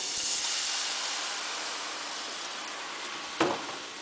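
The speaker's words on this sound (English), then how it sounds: "Now I add my milk." Milk poured into hot chicken drippings for gravy gives a loud, steady hiss that gradually eases off, broken near the end by one brief clunk.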